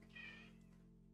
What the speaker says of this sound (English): I'm just gonna feed my cat. She's screaming at me.